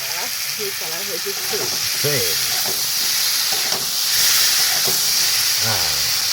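Aloo dum, a spiced potato curry, sizzling and hissing steadily in a pan, a dense broad frying hiss with scraping stirs, under a voice talking throughout.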